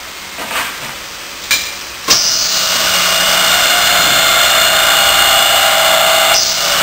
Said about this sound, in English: we'll go ahead and drill the rest of the panel